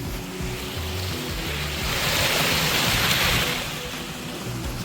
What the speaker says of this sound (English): So you can hear the water.